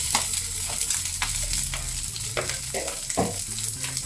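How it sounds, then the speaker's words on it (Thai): Shrimp fried rice with Hong Kong kale is stir-fried in a hot pan over high heat, giving a loud continuous sizzle broken by repeated scraping and tossing of the spatula. "เราผัดกุ้งกับข้าวได้ที่แล้วก็ใส่ คะน้าฮ่องกงไปเลยค่ะ"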